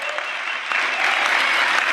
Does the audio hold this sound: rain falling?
no